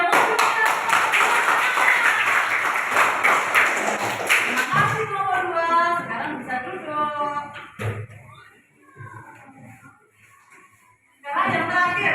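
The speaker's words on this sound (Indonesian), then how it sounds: "Yuk, tepuk tangan" A classroom of students claps together for a few seconds at close range, then the clapping stops and children's voices and talking take over, with a brief renewed burst near the end.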